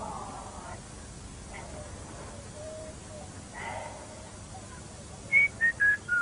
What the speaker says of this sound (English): Don't whistle, you frighten the fish.